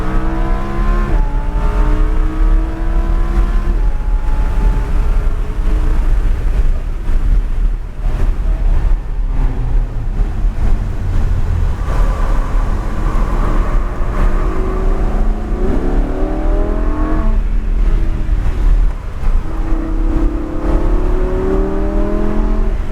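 A Lamborghini Huracan on a track lap, its engine rising and falling through repeated acceleration sweeps, loud and continuous under heavy wind buffeting with no talk.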